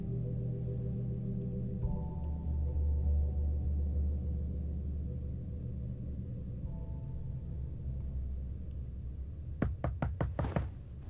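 Knocking at a door in The Wolf Among Us video game: a quick cluster of four or five sharp knocks near the end, over a steady low ambient rumble and soft sustained tones.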